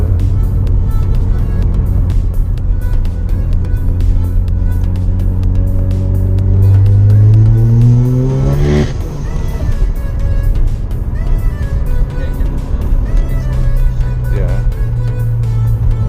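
A Mazda RX7 FD with a four-rotor engine revs and accelerates on a track, its buzzing tone climbing steadily in pitch before dropping off sharply, then settling into a lower drone; a voice speaks briefly.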